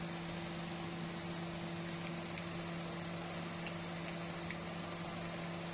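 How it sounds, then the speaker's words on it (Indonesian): Daihatsu Xenia 1000 cc three-cylinder engine idling with a slight vibration, a steady low hum with a constant tone and faint ticking, close by and unchanging throughout. "Ciri khas mesin Xenia 1000 cc ya,"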